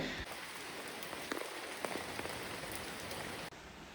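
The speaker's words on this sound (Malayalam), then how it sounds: "പുറത്ത് നല്ല മഴയാണ് കേട്ടോ" Heavy rain falling outside, a dense continuous hiss of drops on surfaces, steady and fairly loud throughout, with no voices.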